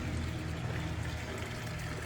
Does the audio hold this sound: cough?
no